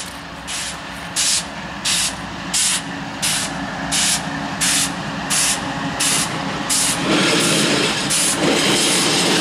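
A BNSF-led intermodal freight train passes close by in Ohio, its wheels beating a regular, loud rhythm of clacks over a continuous rumbling roar.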